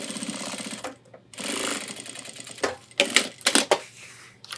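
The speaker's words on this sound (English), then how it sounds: "Put it under the machine and do a stitch." A sewing machine stitches backpack webbing in short mechanical bursts, a rapid chattering run, then a pause and a few quick clacks and thumps, close and loud.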